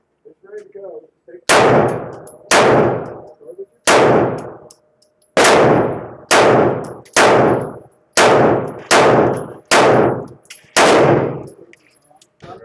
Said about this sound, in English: we're just gonna be shooting at like 7 yards, you know, just to see how the gun feels